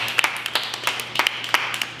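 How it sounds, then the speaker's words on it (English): A small studio audience on a talk web show claps in sparse, uneven bursts, a few distinct sharp hand claps close by with gaps between them, no voices over the clapping. "Round of applause for that, y'all."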